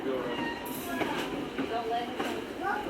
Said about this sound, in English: So here the train slowed down drastically while I was changing batteries.